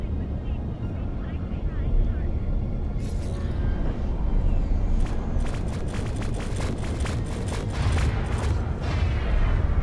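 Cannon fire booms in the X4 Foundations space game amid constant engine rumble, with a cluster of sharp blasts in the second half; someone talks over the battle noise.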